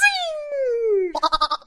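A person imitating a goat bleat, a long close wavering bleat sliding downward in pitch, then a quick stuttering series of short bleat pulses at the end.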